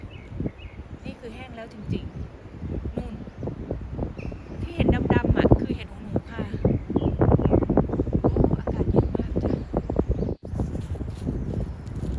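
Wind buffets a microphone outdoors while someone talks through most of it, a rough, steady rumble with gusts under her voice during mushroom foraging in Denmark.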